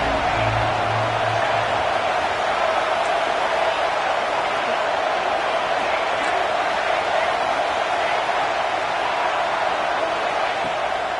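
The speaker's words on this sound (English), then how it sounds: "Here comes the noise from this big crowd in Happy Valley on 3rd down." A dense, steady roar of a large college football stadium crowd at Happy Valley on third down in a video game, loud and unbroken throughout, with no distinct voices standing out.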